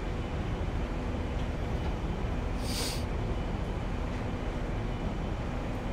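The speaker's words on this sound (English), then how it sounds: "First journey on a Pendolino" A Pendolino train in Train Simulator 2019 makes a steady, dense rumble with constant rolling noise, and a brief hiss rises partway through.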